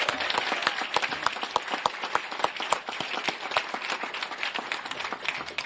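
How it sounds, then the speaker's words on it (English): Outdoor crowd applauds a color guard at a Veterans Day ceremony in a park, a moderate, fairly distant patter of individual claps rising and falling steadily throughout. "give them a warm round of applause"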